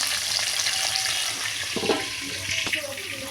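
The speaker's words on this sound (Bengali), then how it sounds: "একটু পেঁয়াজটা হালকা ভাজা হলে তারপর কিন্তু আমি রসুনটা দিয়ে দেবো। আর এখানে একটা মাছ ভাজা বসিয়ে দিয়েছি।" Onion and fish fry together in a pan with a close, steady sizzle, broken by a few clinks and scrapes of stirring.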